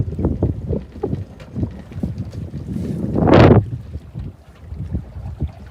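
Gusty wind on a lake buffets the microphone with low rumbling bursts, rising to a stronger roaring gust midway, with a faint water sound beneath.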